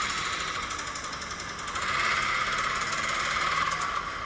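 A McLaren 540C sports car engine with a fault that appeared after refueling, at about 7,000–8,000 km, makes a harsh, continuous rapid knocking rattle like a tractor, loud and steady throughout with no talking.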